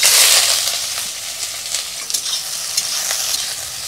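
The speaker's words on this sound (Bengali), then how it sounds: "আমি এগুলিকে একটু লাল লাল করে ভেজে নেব, হালকা লাল, বেশি লাল করব না।" Onion, garlic and ginger fry in hot mustard oil, giving a steady close sizzle that starts loudest and settles into a constant crackle, with occasional stirring scrapes and no talking.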